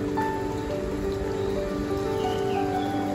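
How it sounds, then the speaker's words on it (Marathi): Heavy rain pours down in a steady, dense hiss at a village home, continuous and even throughout, with no voices. "पावसाने आज तरी काय धुमाकूळच घातलंय"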